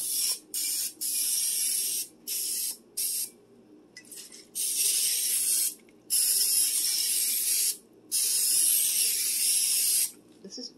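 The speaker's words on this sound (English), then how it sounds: "This is Pam, original butter spray" Several short bursts of Pam original butter cooking spray hiss out from an aerosol can in a home kitchen while baking banana muffins, each spray loud and close with brief pauses between.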